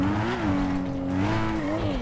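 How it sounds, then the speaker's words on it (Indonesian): A fast car roars in a driving video game, a continuous loud engine note shifting in pitch as it accelerates, with no talking over it. "Soalnya ini mobil kenceng banget anjir."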